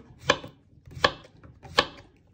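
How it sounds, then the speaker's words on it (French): A knife slicing courgettes and aubergines in half on a board, three crisp, evenly spaced cuts, close and clear with no talking. "Je vais mettre courgettes et aubergines. Donc vous voyez, je coupe de cette façon en deux."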